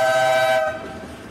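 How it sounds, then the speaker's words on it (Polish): A locomotive at a rail marshalling hump yard, its loud, near horn-like tone holding briefly and then dropping away into lower rumbling. "Jak przejeżdża taka lokomotywa, to dusza w człowieku podskakuje."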